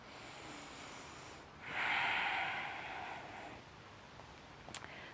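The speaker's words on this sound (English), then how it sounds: "cleansing breath" A single long cleansing breath is exhaled during a yoga core routine on the mat, rising to a soft, airy rush for about two seconds before tapering off, with a faint tick near the end.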